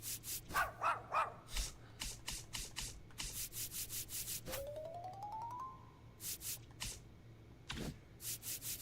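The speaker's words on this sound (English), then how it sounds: "Which one do we have? The dog bark?" Dog bark sound effect from the baseball video game MLB The Show 25, played in a menu: a series of short, sharp bursts with a brief rising electronic tone partway through, with no talk.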